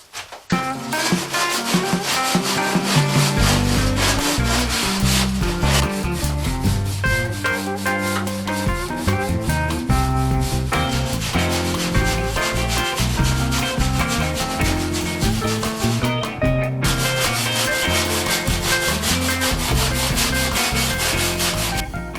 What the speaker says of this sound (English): Well, that's got the seams scrubbed down as best as I can right now.